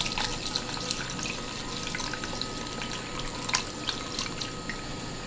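Miso ramen broth pours in a steady, splashing trickle of liquid at close range, with no voices.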